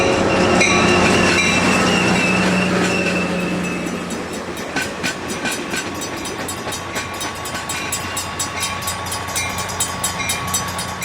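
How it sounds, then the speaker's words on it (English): An ACE commuter train, number 5, pulls into Tracy station, starting loud with rumbling and squealing, then settling into a steady rhythmic clickety-clack of wheels over rail joints as it rolls in close by. "Train 5 pulls into the station."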